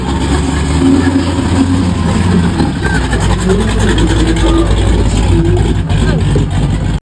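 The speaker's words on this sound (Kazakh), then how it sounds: "Ал мына көліктің дауысы. Тыңдап көріңіз." A retro car's engine runs steadily and loudly at a holiday event, a continuous close rumble that holds level throughout with faint voices beneath it.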